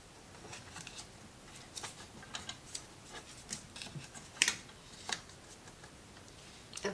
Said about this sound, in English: I'll cut that a little wonky